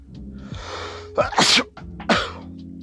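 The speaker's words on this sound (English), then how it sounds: "I hate sneezing at times." A person sneezes twice in quick succession, each with a sharp inhaled buildup and forceful burst, close and loud over a low background hum.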